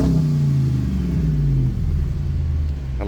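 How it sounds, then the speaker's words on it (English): A 2007 Jeep Grand Cherokee SRT8 with a 6.1 liter Hemi V8 revs loudly up close, a deep rumbling engine note that climbs and falls steadily, with no talking over it. "Give it a little rev for you."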